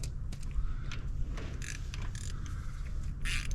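A wrench works spark plugs loose from an old Ford tractor engine, making repeated ratcheting clicks and metallic creaks over a low background rumble.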